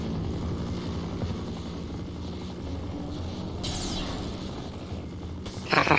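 An Apache helicopter in the Half-Life: Opposing Force video game drones steadily with a low rotor rumble throughout, joined by hissing bursts partway through and a louder sharp blast near the end; no voices.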